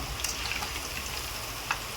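Steady rain falling on a surface, a dense even patter with a few sharper drops, heard alone close by.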